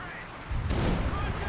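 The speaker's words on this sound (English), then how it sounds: "I feel like those cluster explosions don't, like, do anything usually." Cluster artillery shells explode in the Company of Heroes 2 war game, a sudden loud boom bursting in halfway through and rolling into a rumbling barrage of overlapping blasts that stays heavy to the end.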